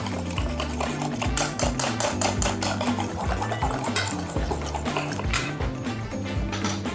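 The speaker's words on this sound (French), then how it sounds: "On attend, on mélange jusqu'à quand ça soit épaissi." A utensil stirs a thickening sauce in a pan for potato waffles, with quick repeated scraping and clicking strokes over a thick, wet bubbling texture, loud and close, while music-like tones play underneath.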